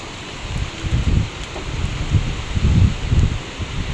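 Strong typhoon wind gusts roar in low, surging waves against a steady hiss of rain, rising and falling several times.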